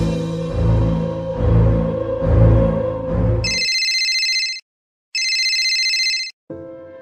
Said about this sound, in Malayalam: അറിയാത്തൊരു നമ്പർ സംശയം തോന്നി ദേവിനെ ഫോൺ ചെവിയിലേക്ക് വെച്ചു